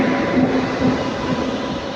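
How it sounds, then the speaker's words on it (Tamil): Mangala Express passenger train pulling into a railway station, a loud steady rumble of rolling wagons with faint wheel clatter, no voices. "கரெக்டான டைமில் வந்துருச்சு வண்டி"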